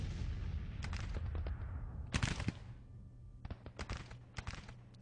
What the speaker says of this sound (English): We've driven this brigade back with some close range fire from the artillery.